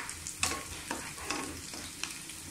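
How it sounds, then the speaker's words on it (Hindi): Onions frying in a pan for dal gosht, a steady sizzle broken by several scraping stirs of a spoon at irregular intervals, close and moderately loud. "प्याज हमारा रेड हो गया,"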